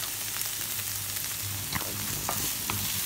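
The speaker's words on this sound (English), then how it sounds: "right now I'm going to saute" Onion sautéing in a pan for shepherd's pie, a steady close sizzle and crackle of frying with occasional stirring scrapes and no talking.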